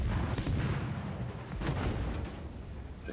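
Heavy naval gunfire in the World of Warships game: dense, loud rolling booms of ship cannons that rumble continuously through the moment and ease off slightly near the end.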